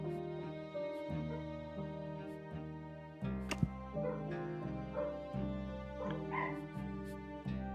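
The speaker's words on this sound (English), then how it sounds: "Ignore the dog." A dog barks and yips in a video game, with short barks and whimpers repeating over steady, harmonic game music that swells midway through.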